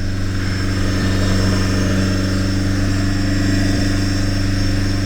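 A car engine held at about 3000 RPM during a diesel particulate filter test drones steadily and loudly, a constant humming tone with no pauses and no talking.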